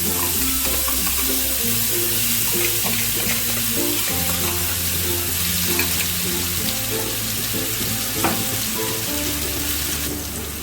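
A paste of onion, ginger, garlic and green chilli fries loudly in a hot pan, giving a dense, continuous sizzle with a faint low hum beneath, heard up close without pause.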